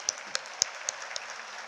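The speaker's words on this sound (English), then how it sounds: "Let's give them a big thumbs up and a great clap." An audience at a pre-primary school annual day gives a few faint, scattered claps, spaced about a quarter second apart, over a steady background hum.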